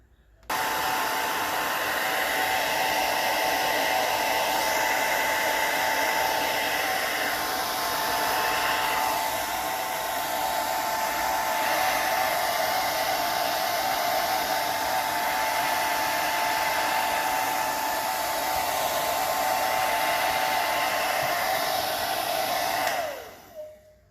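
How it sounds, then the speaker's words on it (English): A hairdryer blows steadily on wet artwork, a continuous loud whirring hiss that runs for over twenty seconds before being switched off at the end, with no talking. "So I think I'm going to just encourage the drying with a bit of my hairdryer."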